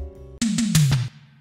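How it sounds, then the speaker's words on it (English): A quick descending run of four punchy synthetic tom hits for EBM music, each dropping in pitch, followed by a short reverberant tail. "And then I sended my toms to a group bus and added some reverb."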